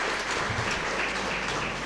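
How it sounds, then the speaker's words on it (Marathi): Audience applause at a bank branch inauguration ceremony, a brief dense burst of clapping from many hands, steady and fairly close throughout. "एकदा मोरे साहेबांसाठी टाळ्या वाजवून आपण सांगतो."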